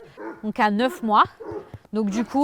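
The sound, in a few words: young Labrador cross dog barking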